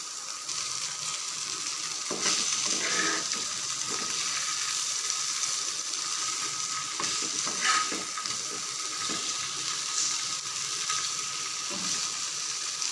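Fish frying in oil in a pan gives a steady, close hiss and crackle that runs the whole time, broken by a few scraping stirs and light clatters, with no talking.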